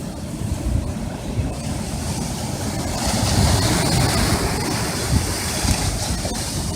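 Ocean waves crash and wash continuously onto Crescent Beach in Saint Augustine, Florida, a loud, steady roar of surf swelling midway, mixed with wind buffeting the microphone.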